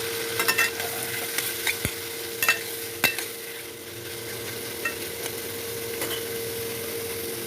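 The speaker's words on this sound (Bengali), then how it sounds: "এই পটলে ভাজার তেলের ভিতরেই আমি চিংড়ি মাছটাও ভেজে নেব" Prawns fry in the oil left from frying pointed gourd, giving a constant bright sizzle close by, broken by occasional clicks and scrapes of a spatula stirring in the pan.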